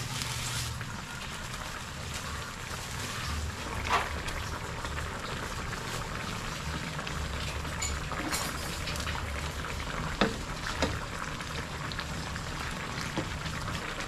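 A pot of soup with patola and misua boils steadily, giving a continuous bubbling hiss with occasional sharper pops and clicks, fairly close and alone without talk.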